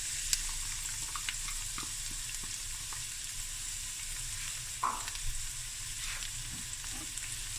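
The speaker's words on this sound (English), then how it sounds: "We're just going to sweep the onions down for about 5 minutes" Onions sizzle and fry in oil and butter in a pan over medium-high heat, a steady close crackle with occasional stirring scrapes and no talking.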